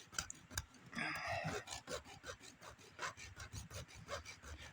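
A hacksaw blade grinds through a thick, hard toenail in quick, rhythmic back-and-forth strokes, close and fairly quiet, with a short scraping rub near the start.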